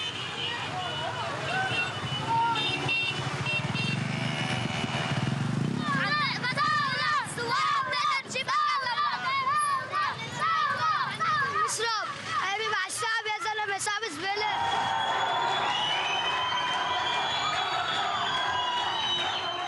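Street protest in Tripoli, Lebanon: a crowd's dense, overlapping shouts and chants rise and fall, with individual voices cutting through a constant hubbub of traffic and street noise.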